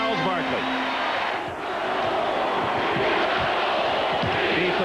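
An arena crowd of 19,000 at the 1993 NBA Western Conference Finals Game 7 in Seattle roars in a dense, continuous wall of voices, with a rhythmic chanted swell near the start.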